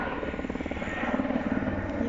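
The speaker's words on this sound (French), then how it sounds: "L'hélico." A helicopter circles overhead to film a cycling race, its rotor throbbing steadily and fairly loud throughout, with voices in the background.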